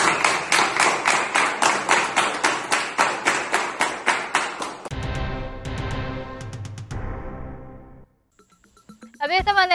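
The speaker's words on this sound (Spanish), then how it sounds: "Un aplauso para ellos." Applause on a Spanish-language evening news broadcast: a burst of rhythmic clapping for several seconds, then music takes over and a voice comes in at the end.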